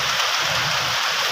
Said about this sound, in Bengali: অনেকদিন পরে বৃষ্টি হচ্ছে